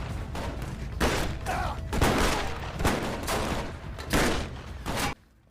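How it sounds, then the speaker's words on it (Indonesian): A loud burst of gunfire from a gangster shootout in the film Gatao (2015), several rapid volleys of shots crackling over about five seconds, then an abrupt stop. "terjadilah tembak-tembakan di antara mereka"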